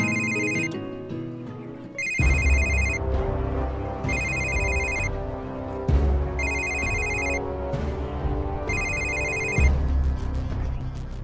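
A phone ringback tone repeats in regular bursts about every two seconds on an outgoing call, with musical background underneath and no speech.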